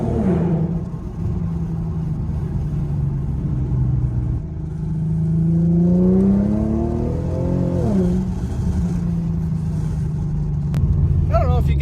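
An Infiniti Q50 with an SCS catback exhaust after a year of driving rumbles loudly nearby, climbing through a rising rev and falling back to a deep idle, with speech over parts of it.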